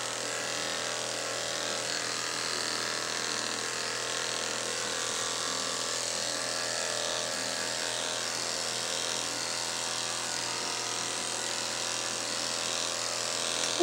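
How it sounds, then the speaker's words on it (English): An electric clipper hums steadily throughout while grooming a Miniature Schnauzer, trimming along the white fur under the chin; the buzz stays close and constant with no pauses. "So we're going to do between the white only with the clipper."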